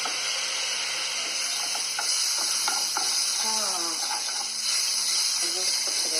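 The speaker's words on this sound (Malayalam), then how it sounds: "കുറച്ച് നേരം നന്നായിട്ടൊന്ന് വഴറ്റി അതിനെ ഇച്ചിരി ഒന്ന് കളറൊന്ന് മാറട്ടെ" Sautéing in a pan for egg fried rice gives a continuous bright sizzle with repeated scraping and clattering stirs of a spatula, close and steady throughout, with no voices.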